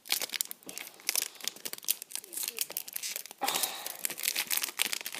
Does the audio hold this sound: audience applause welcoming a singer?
no